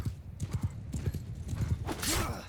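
Horses gallop in Mount & Blade II: Bannerlord, steady clip-clop hoofbeats running close and loud, with a whinny rising near the end.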